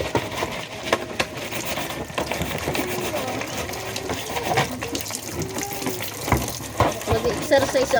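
Running tap water pours steadily into a sink while something is washed, with splashing and clattering under a person talking throughout at close range.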